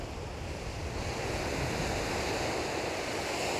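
Mediterranean sea waves rolling onto a campground beach near Cartagena, Spain, a constant roaring wash of surf with wind noise, even and sustained, no one speaking.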